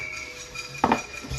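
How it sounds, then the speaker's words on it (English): A brief clatter of metal pots and pans being struck as noisemakers, short and fairly close, over a steady background hum. "You can hear the pots and pans."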